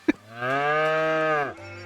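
A single long, low cow moo from the video game Shenmue III, loud and close, drawn out for about a second after a short click, with no talking over it.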